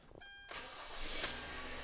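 A 2013 Hyundai Tucson with a 2.4L engine starts up: a short warning chime, then the engine catches and settles into a steady idle, heard alone.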